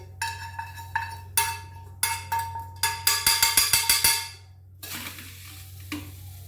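Chilies roast in a pan while being stirred, so the utensil strikes the metal in quick, rhythmic clinks and scrapes. A faint sizzle sits beneath the strokes, which speed up into a rapid burst before easing off.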